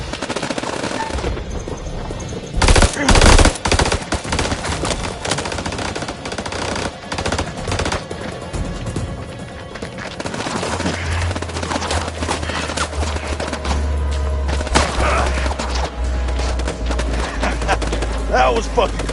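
Rapid bursts of automatic gunfire and scattered shots ring out in a House of Ashes combat scene, loud and close, with a deep rumble building partway through and shouted voices mixed in.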